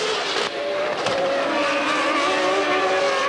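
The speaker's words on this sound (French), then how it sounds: "Häkkinen a poussé Coulthard en tête à queue." Formula 1 car spinning out during a 1996 season race after contact: loud racing engine with a sustained tonal whine and screeching tire noise, a harsh shift near the start, steady and close throughout.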